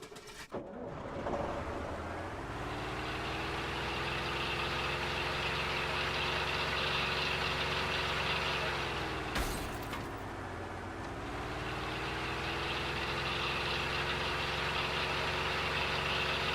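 A truck engine idling in the DayZ video game gives a steady low drone that holds for the whole stretch, dipping slightly midway and after a short burst near the start, with no talking.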